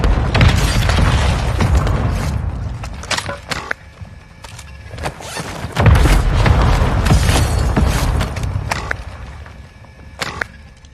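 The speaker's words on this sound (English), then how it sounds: "Mortar strike inbound now." Mortar strike explosions in the video game Warzone 2, with several heavy booms and thuds in succession, loud and rumbling, separated by sharp transient cracks and short pauses.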